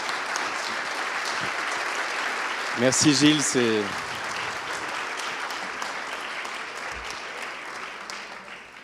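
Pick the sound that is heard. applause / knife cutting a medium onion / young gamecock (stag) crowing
applause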